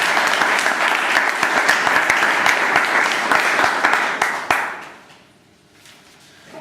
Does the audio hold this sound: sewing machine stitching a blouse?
no